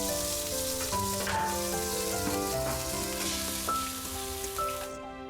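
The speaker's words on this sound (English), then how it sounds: "The oil might splatter on you." Hot oil sizzling loudly and steadily as food fries in a pan, with a dense crackling hiss over tonal background music and no talk.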